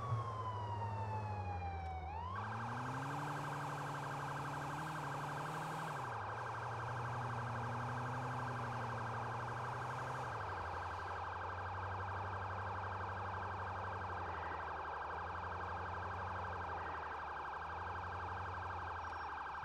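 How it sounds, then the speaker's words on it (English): Emergency vehicle sirens in the GTA 4 video game wail continuously and loudly, shifting pitch between long steady tones and rising and falling sweeps during a lights-and-sirens run, with no talking over them. "We're gonna have quite a long lights and sirens run to get to him."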